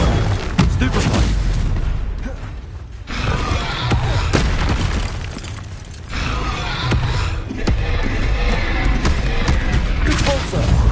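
A Stupefy stunning spell goes off in Hogwarts Legacy amid loud, booming combat noise, with thumping impacts and rumbling effects layered densely over several seconds, and voices mixed in.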